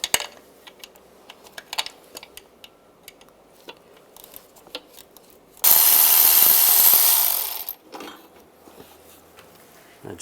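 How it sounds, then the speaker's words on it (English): A power tool with a 10mm socket spins off bracket bolts on a 2007-18 Jeep Wrangler, one loud whirring burst of about two seconds standing out from scattered clicks and light handling noise. "Take these two bolts off."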